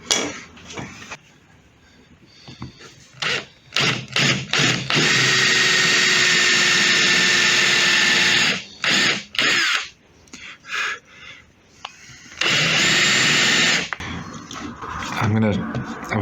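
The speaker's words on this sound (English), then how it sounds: "Now I need to countersink the holes that I've just made in the perspex" A power drill countersinks pre-drilled holes in a perspex sheet, running in two loud, steady whining bursts, one long and one shorter, with a voice talking in the pauses.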